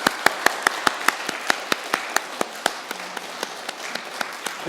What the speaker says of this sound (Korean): 우리 함께 박수하시겠습니다.